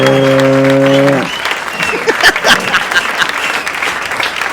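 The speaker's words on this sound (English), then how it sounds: "That'll keep clapping. And the crowd roars." Applause and a roaring, cheering crowd from a sound effect, played loud and continuous after a short sustained electronic tone opens it.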